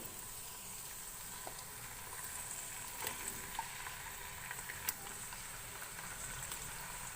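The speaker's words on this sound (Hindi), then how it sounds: "फ्लेम हाई करेंगे और गोश्त को प्याज के साथ अच्छी तरह से फ्राई कर लेंगे" Boneless beef pieces fry with onions in oil over a high flame, giving a quiet, steady sizzle sprinkled with small crackles and a few louder pops.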